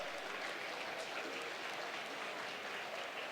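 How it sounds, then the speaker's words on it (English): A dense, even wash of applause from an audience at a ranch grand opening event, steady and fairly distant throughout. "Please give him a round of applause."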